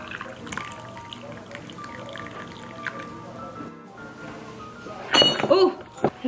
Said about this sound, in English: the freaking Christmas tree just fell inside my tea